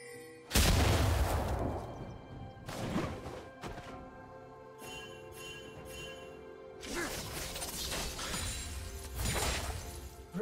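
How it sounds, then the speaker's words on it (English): Crashing, booming destruction of a turret in League of Legends amid a mid-lane Talon versus Qiyana match, with heavy impacts and smashes followed by a lighter clatter of game effects, loud and close, without talk. "Red team's turret has been destroyed."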